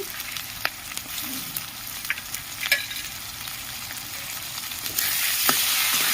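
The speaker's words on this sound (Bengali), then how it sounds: "ভালো করে একটু কষিয়ে নেবো" Ginger-garlic and onion paste sautéing in a pan for soybean curry, a steady low sizzle with scattered scraping stir clicks, growing a little louder near the end.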